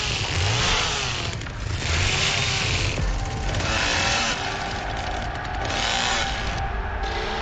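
In the Texas Chain Saw Massacre video game, Leatherface revs a chainsaw in loud repeated surges, a harsh buzzing whine rising and falling throughout.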